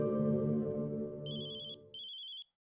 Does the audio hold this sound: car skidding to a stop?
no